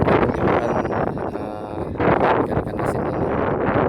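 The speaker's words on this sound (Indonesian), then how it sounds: "Ini angin masih kencang." Strong wind blowing across Pulau Pasaran, an island fish-drying area, a steady loud broadband roar with gusts buffeting the microphone throughout.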